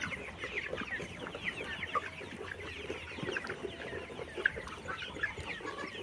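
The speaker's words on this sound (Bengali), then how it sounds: "আমার এখানে স্ক্রিনে যে মুরগিটি দেখতেছেন" Kazi breed layer pullet chickens, 65 days old, clucking together on a poultry farm, a continuous overlapping chorus of close, busy clucks and short calls with no talking.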